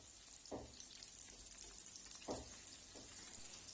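Yeast-free pişi dough frying in a shallow layer of oil in a pan gives a steady, close sizzle with a few sharper pops and clicks scattered through it.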